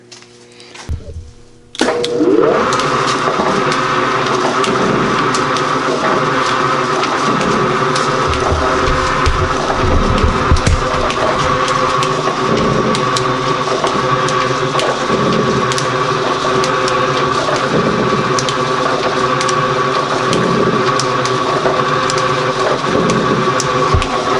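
A Gould & Eberhardt 24-inch heavy-duty metal shaper runs in high gear, giving a loud, steady mechanical drone with a repeating stroke rhythm. The sound continues without a break, with no talk over it.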